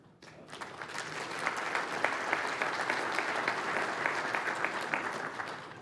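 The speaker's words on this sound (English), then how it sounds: "I appreciate you clapping." Audience applause at the 2016 State of the Province budget address in New Brunswick, a sustained wash of many hands clapping that swells and holds steadily, moderately loud throughout.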